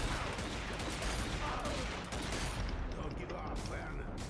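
A shotgun fires in a fast-paced shooter video game, with dense, loud bursts of gunfire and explosions packed into a few seconds, with no pause.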